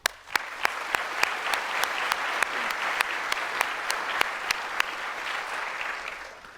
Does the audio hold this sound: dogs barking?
no